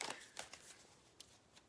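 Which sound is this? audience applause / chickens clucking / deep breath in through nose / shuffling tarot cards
shuffling tarot cards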